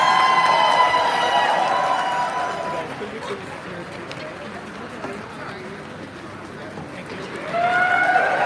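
A crowd cheering at the Apple iPhone XS launch in Sydney, with a steady roar of many voices and whooping that dips midway and surges again near the end, while people talk nearby.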